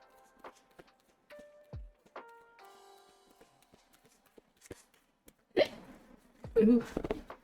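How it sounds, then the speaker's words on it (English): Hiccups come during a casual livestream. A couple of sudden, sharp hiccups are fairly close and stand out among faint electronic beeps and tones in a quiet room. "Ooh, hiccups."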